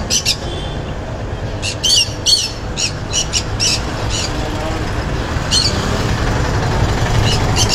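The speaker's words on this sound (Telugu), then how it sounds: "చిన్న పిచ్చుక కదా ఇది" A small sparrow, kept as a pet bird at a pet market, gives repeated sharp chirps over a busy, steady background din, in bursts across the clip.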